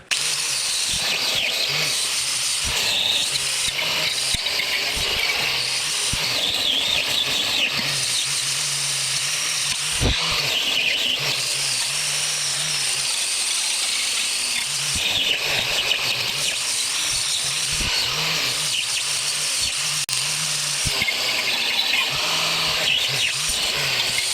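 A power tool whirs and grinds against a rusty brake hub on a 2010-2015 Lexus RX350, a continuous close mechanical drone with a brief louder knock partway through and no voices.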